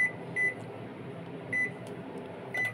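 A microwave oven running as it heats food in a home kitchen, a low steady hum with a faint repeating high tone that rises at regular intervals, quiet and alone.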